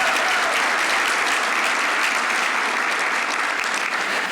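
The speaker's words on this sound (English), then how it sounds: "let's give them all a round of applause as well" An audience at an evening awards event for Forty Under 40 honorees claps for the BPC team, giving dense, sustained applause at an even loudness throughout.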